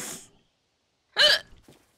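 A person hiccups once, a sharp loud vocal catch close to the microphone, preceded by a brief breathy sound and followed by a faint trailing noise.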